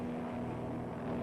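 A 1937-era light airplane engine drones steadily in flight, a continuous low humming roar with a strong propeller tone, close and even, with no voices.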